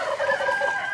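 A 2.5-year-old turkey gobbling on a farm, one sustained, warbling call that rises and falls, close and fairly loud over a steady hum, with no talk.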